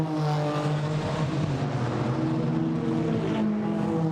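A GT4 race car engine drones steadily as it passes the Brands Hatch circuit during qualifying, a loud sustained tone with no voices over it.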